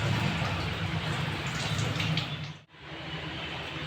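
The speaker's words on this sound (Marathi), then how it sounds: "1-2 पाण्याने स्वच्छ अशी डाळ ते धुवून घ्यायची व्यवस्थित" Lentils are rinsed with water in a home kitchen, giving a continuous sloshing, splashing wash with a brief pause near the end before the water noise resumes.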